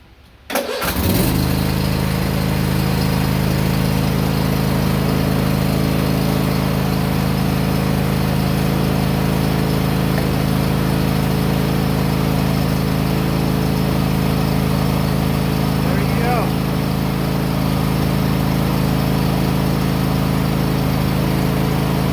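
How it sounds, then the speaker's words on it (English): A Cub Cadet lawn mower engine cranks and catches, then runs steadily at a loud, even idle with a constant low drone, no voices. "start the mower"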